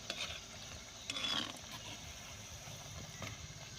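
Bhaji fritters made from soaked batter frying in hot oil, a soft steady sizzle and bubbling at moderate distance, with a brief louder crackle in the middle and no talking.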